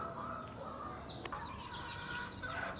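Several hens cluck and fowl call in a yard, a busy, steady chorus at moderate distance with occasional sharper calls rising above it.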